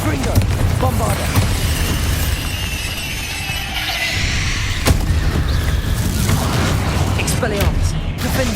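Confringo and Bombarda spell blasts in Hogwarts Legacy, a dense run of booming bursts and crackling impacts amid continuous combat noise, with a voice calling out over it.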